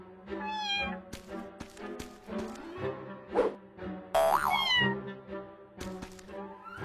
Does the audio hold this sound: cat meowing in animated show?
yes